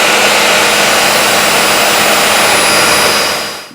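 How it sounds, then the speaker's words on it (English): A miter saw cuts a board clamped to its fence in a woodworking shop, a loud continuous whining roar that holds steady and then winds down at the end. "I'm going to do it on the miter saw. I've got the board clamped to the fence for safety and I'm ready to cut."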